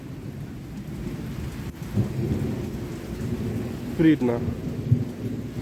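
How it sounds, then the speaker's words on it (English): Heavy rain falls steadily during a September rainstorm while thunder rumbles low in the background, with a voice briefly speaking over the downpour. "She's actually quite good with all this thunder and flash."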